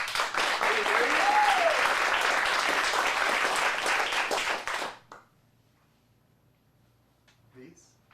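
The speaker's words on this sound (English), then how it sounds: "Let's get a round of applause." Audience applause at an adult acting studio's dramatic showcase fills the room as a dense, sustained wash of many hands for about five seconds, then cuts off abruptly into near silence with a faint voice afterward.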